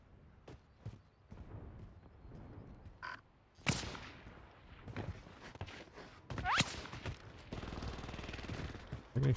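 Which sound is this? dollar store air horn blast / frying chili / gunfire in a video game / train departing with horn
gunfire in a video game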